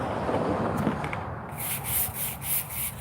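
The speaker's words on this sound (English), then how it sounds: "We're going to give them a good scrubbing." Brush scrubbing algae and mold from a cemetery headstone outdoors, a continuous close rasping rub with rhythmic strokes that grow more pronounced toward the end.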